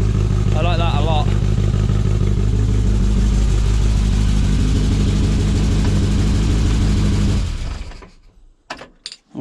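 A classic Mini engine runs steadily with a low, throbbing idle and a brief rev, without banging noises, then cuts off, leaving quiet with a few soft knocks.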